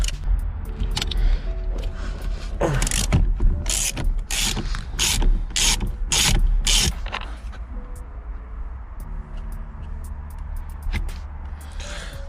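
A ratchet turns a T55 Torx bolt on the steering wheel of a Seat Ibiza 6L 1.9 TDI, with a run of quick, close, loud clicking strokes in the middle and lighter mechanical handling sounds before and after.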